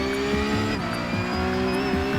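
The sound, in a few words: race car engine at full throttle, racing video game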